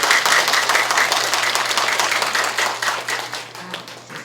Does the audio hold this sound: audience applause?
yes